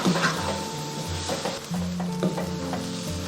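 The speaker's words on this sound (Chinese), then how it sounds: "下入炒好的鸡蛋， 开中大火给它翻炒均匀" Jiangxi rice noodles with scrambled egg being stir-fried over medium-high heat in a small, overfilled pan, a steady close sizzle broken by repeated scraping and clanking of the spatula against the metal.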